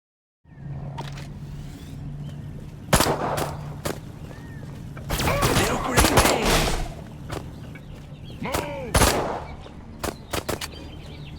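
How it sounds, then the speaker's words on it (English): Gunfire in the Destroy All Humans! video game, sharp shots and bursts of rapid fire scattered over a low engine hum, with thuds and game effects between them. "Nice shooting, Crypto."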